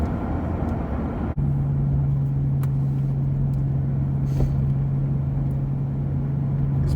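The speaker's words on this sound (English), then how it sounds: "if I really need that power of the 6 litre V12 up front, you can very smoothly, manually select what gear you want" A 1994 Jaguar XJS with a 6.0-litre V12 cruises along, its engine a smooth, steady low rumble with a faint constant hum heard from inside the car.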